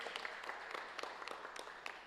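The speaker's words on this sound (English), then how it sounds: "please give her a round of applause" Audience applause at a certificate presentation ceremony, faint and distant with scattered individual claps spread steadily across the whole moment.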